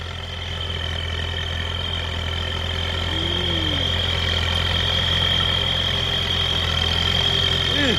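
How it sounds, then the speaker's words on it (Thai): A New Holland 6640 tractor engine drones steadily nearby while ploughing in rain, with a thin, sustained high turbo whistle riding over the low rumble throughout. "มีเทอร์โบไหมนี่เสียงวิทวิท"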